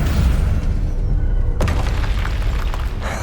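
Expelliarmus spell cast in Hogwarts Legacy, a loud booming magical burst that cuts in sharply partway through, over a constant dense rumble of game ambience and music.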